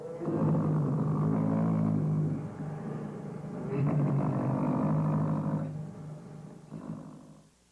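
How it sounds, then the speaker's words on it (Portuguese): Steady, rumbling purrs rise and fall in long continuous stretches, close up, with no voices. "as estrelas do dia mostraram que, por enquanto, já sabem ronronar como manda o figurino"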